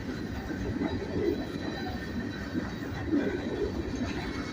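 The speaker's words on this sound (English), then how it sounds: "So I would say this is a coal train." A coal train rumbles steadily past, a dense low roar of wheels and rail noise with faint clicking, continuous and fairly close.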